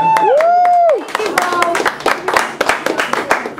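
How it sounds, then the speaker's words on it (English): At the comedy club Stage 84 in Davie, Florida, a short whistle-like tone opens, then a small audience breaks into scattered, uneven clapping, with voices mixed in throughout. "Guys, make a round of applause for staying here."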